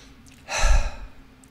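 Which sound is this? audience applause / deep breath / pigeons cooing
deep breath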